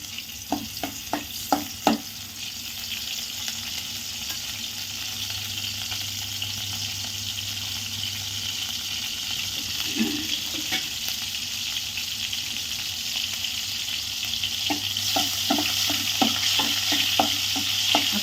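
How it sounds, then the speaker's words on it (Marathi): Garlic frying in a small amount of oil over a full flame for a bitter gourd dish, a constant hiss of sizzling with bursts of quick spoon scrapes at the start and end, close and clear, no speech. "आपला लसूण भाजला पाहिजे"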